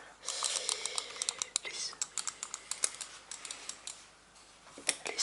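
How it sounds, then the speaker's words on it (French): Small computer mouse buttons click in quick, uneven bursts, crisp and close, with faint whispering under them. "Des petits clics de souris comme ça."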